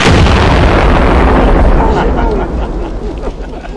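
A single loud sniper rifle shot at a police firing range. It booms close and heavy, then its echo trails away over a few seconds.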